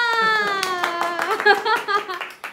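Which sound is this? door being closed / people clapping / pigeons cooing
people clapping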